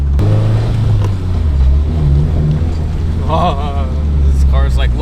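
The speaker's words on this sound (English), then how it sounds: "his car might make a little bit of funny noises" A tuned car engine revs loudly and continuously from inside the car, a deep throaty roar that rises and falls while several people talk excitedly over it.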